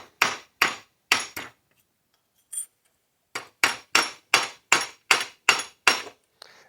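Repeated ringing metallic hammer strikes from a ball peen hammer on scrap metal, close and loud, in an uneven run with a pause midway, then a steady rhythmic series.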